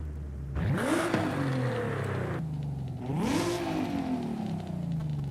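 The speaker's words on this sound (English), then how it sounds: "It has the same profile as a stock exhaust sound, but more deeper and more a race car sound like." A race-exhaust car engine in Forza Horizon 5 revs twice, each time rising sharply to a deep, loud roar that settles into a sustained rumbling drone, close and without speech.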